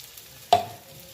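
Cumin and spices hit hot oil in a pan for a soybean curry, giving one sudden sharp sizzle that fades into a softer frying hiss.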